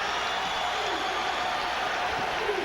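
Basketball arena crowd at a Pitt Panthers at Providence Friars college game roaring in a steady, dense wash of cheering and applause, loud and sustained throughout.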